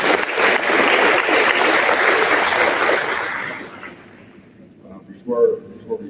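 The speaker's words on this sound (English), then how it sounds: "I would like for you all to give yourselves a round of applause." An audience at a senior awards ceremony applauds loudly and continuously for several seconds before the clapping dies away, and a voice follows near the end.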